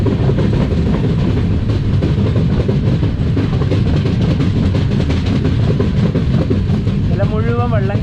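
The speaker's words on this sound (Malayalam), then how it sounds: "ട്രെയിനിപ്പോൾ അടുത്തൊരു റെയിൽവേ സ്റ്റേഷനിലെത്തി" Konkan Railway train pulling into a station during monsoon flooding, a steady loud rumble and clatter of wheels on rails, with voices talking over it.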